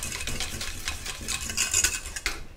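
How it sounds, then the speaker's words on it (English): Hand-stirring of a cooling cream emulsion for a probiotic night cream, soft repeated scraping and rubbing strokes in an irregular rhythm, close but quiet, with no voices. "we do want to continue stirring while that's cooling"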